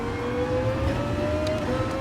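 Race car engine held at full throttle in Gran Turismo, a steady high drone with a faintly rising whine that stays loud and continuous throughout, with no talking.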